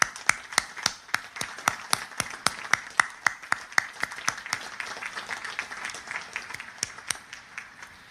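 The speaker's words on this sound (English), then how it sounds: "let's have a big round of applause for Colonel Ripley, please." Rhythmic applause at a naval academy graduation, a few close, sharp claps ringing out in a steady beat over softer clapping from the crowd behind.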